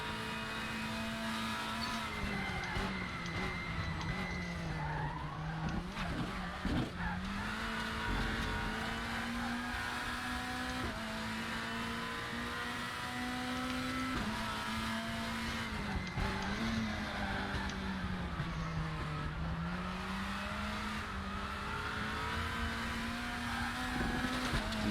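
Volvo WTCC touring race car in the Raceroom sim at Salzburgring, a steady loud engine drone rising and falling through gears with tyres squealing under load through corners, continuous and up close with no talk.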